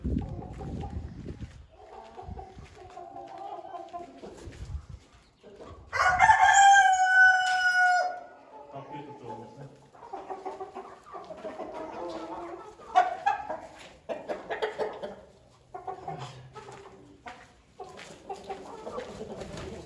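Hens cluck softly around a farmyard coop while a rooster lets out one loud, close crow partway through, with quieter clucking and rustling continuing after it.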